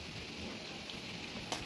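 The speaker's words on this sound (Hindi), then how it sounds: "बारिश हो रही है" Steady, faint rain falls continuously as a soft hiss with no speech, and a single brief tap sounds near the end.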